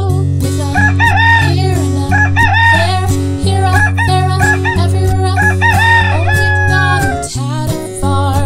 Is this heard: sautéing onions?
no